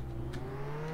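Steady engine drone of the banana car in Roblox Jailbreak, a low constant hum with a slowly rising tone, continuous and fairly quiet with no talking.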